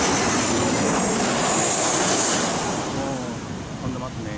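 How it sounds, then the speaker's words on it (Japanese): Airplane roaring overhead near Narita Airport by the Toho Shrine, a loud, broad jet rumble that swells and then slowly fades, with faint voices late on. "これ、飛行機音すごいんですよね。"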